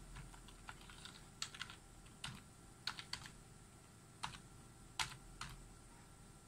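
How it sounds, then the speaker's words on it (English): Scattered keystrokes on a computer keyboard, a short burst of separate taps with pauses between them, close and faint in a quiet room, no talking. "So when I type in the password"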